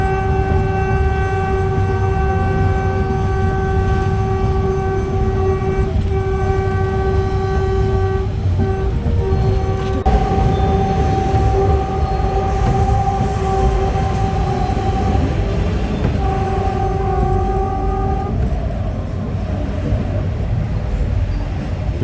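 Train horn sounding in long sustained tones over the steady rumble and clatter of a passing train on a railway line near Sihanoukville station, Cambodia, loud and continuous with the horn cutting out and returning.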